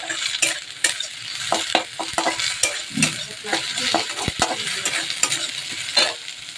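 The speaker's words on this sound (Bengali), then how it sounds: "আদা রসুনটাকে আরেকটু ভালো করে কষিয়ে নিলাম" Ginger, garlic and onion are sautéed in a pan for a bottle gourd and egg dish, with a continuous close frying sizzle broken by repeated sharp spatula scrapes and clinks against the metal.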